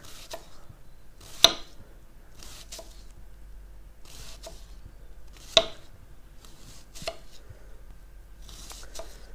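A knife chops onion on a cutting board in quiet, irregular strikes, with two sharper, louder chops standing out.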